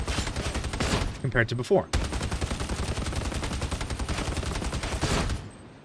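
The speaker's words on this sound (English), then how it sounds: "if you were watching quite closely while I was firing the gun, it has a significantly reduced spread pattern" The Achlys Stubber machine gun in the video game Darktide fires long, rapid bursts of gunfire, briefly broken by a pause, with a short spoken phrase in the gap.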